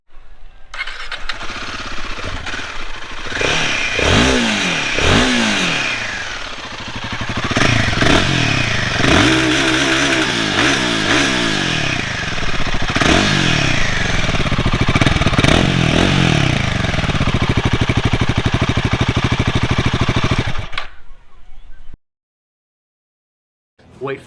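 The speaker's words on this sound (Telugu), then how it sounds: "మనం హిమాలయన్ 450ని ఎగ్జాస్ట్ నోట్ విని అయితే రైడ్ అయితే చేద్దాం" A Royal Enfield Himalayan 450 motorcycle starts up close by, its single-cylinder engine settling into a steady idle with a few throttle blips rising and falling before it cuts off and goes quiet near the end.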